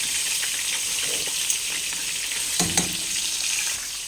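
A pot of dinengdeng vegetable broth with barrilete fish bubbling and simmering, a steady close hiss with a few faint clinks and bubbles, no voices.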